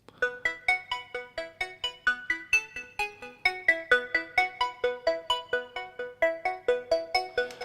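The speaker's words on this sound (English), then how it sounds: "I have an arpeggio played by two sounds that I modified in the VST Diva" Arpeggiated synth pattern built from two layered sounds patched in the Diva VST, with a steady stream of bright, plucky repeated notes in a fast even rhythm, loud and alone with no talking.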